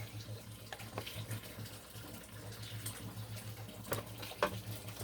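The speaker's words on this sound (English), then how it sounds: "So, hot water. And pour it in the pan." Steaming hot water pours into a cheesecake pan, a steady moderate splash and trickle, with a low hum running underneath.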